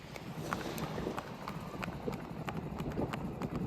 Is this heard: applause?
no